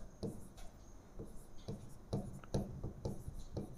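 Scratchy marker or chalk strokes on a board in a physics lecture about electric fields, arriving in short bursts with brief pauses, faint and close, with no talking over them.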